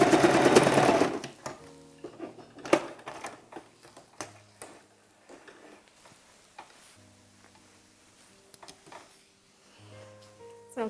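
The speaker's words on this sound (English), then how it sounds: "I'll sew them side by side, being careful enough not to catch the" A sewing machine stitches kaftan dress fabric, opening with a loud, fast run of needle strokes. It then breaks into short, quieter bursts and clicks, close and with no talk.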